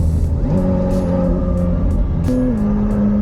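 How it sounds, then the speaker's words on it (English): A McLaren 750S sports car engine drones and shifts pitch as it revs and changes gear, a throaty exhaust note heard from inside the moving car with the window lowered. "Let's lower the window so I can hear the exhaust."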